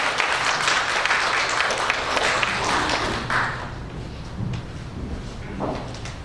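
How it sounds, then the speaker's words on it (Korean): A church congregation at a Sunday worship service claps in a dense burst of applause that thins out and fades over the last few seconds, with a few scattered claps remaining. "큰 박수로 환영하도록 하겠습니다"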